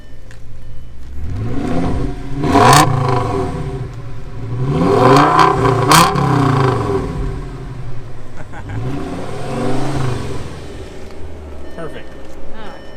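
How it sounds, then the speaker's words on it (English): An Audi S8 with a V10 engine revs twice in strong, rising bursts that fall away, with a softer third rev near the end, while people talk close by. "Why don't you rev it up a little bit for me"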